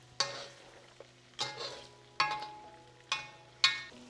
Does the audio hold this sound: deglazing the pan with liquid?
yes